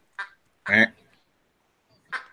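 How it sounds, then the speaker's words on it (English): A squeaky dog toy shaped like a duck gives a few short, loud quacking squeaks in separate bursts, the middle one longest and fullest, with pauses between them. "my wife bought our dog a toy that sounds like a duck"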